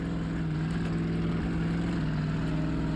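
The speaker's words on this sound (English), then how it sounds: "Let's go hook a trailer onto this thing and see how it does a little more off-roading once." An FJ Bruiser Land Cruiser truck with a Redline engine, pulling a maintenance trailer off-road in the SnowRunner video game, holds a steady droning engine note throughout, loud and continuous with no talking.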